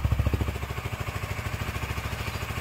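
A motorcycle engine idling just after a push start, a steady low mechanical putter with even rapid firing pulses, fairly close and alone.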